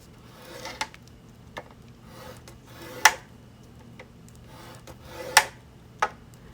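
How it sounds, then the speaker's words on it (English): A scoreboard tool scores paper for a handmade Christmas mini album, making faint, close scraping strokes punctuated by a few sharp clicks at irregular intervals, with no one speaking. "I'm going to score with the short end across the top every 1/4 of an inch."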